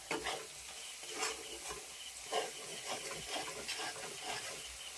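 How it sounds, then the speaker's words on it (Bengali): Marinated chicken for chicken bhuna sizzles and fries in a hot pan with no water added, a steady crackling hiss swelling in repeated bursts as the pieces are stirred, close and clear with no talking. "এই যে এখানে আমি ম্যারিনেট করা চিকেনটা দিয়ে দিলাম।"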